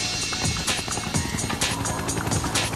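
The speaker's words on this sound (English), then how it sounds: "Oh, a helicopter. It's one of Kaiba's choppers." A remote-controlled helicopter in an anime scene, its rotor giving a steady, loud chopping whir with rhythmic pulses throughout.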